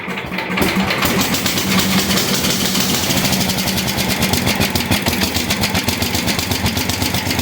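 An MTD 990 small engine idling after a carburetor rebuild, a loud, steady, rapid chugging that starts abruptly and runs evenly, close by and alone.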